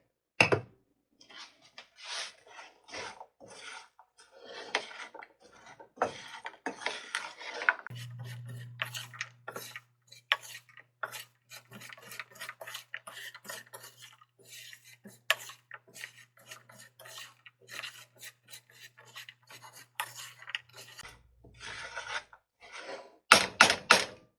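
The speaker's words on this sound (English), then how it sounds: "Stir that around." A sticky, hot homemade candied walnut mixture is stirred in a pot. Irregular scraping and rubbing strokes come close and moderately loud over about twenty seconds, with a low steady hum partway through.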